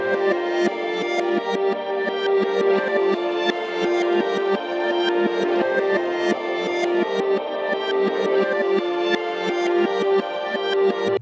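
A reversed melody plays continuously, notes swelling in backward with dense harmonic layers and a steady pulsing rhythm, with no talking.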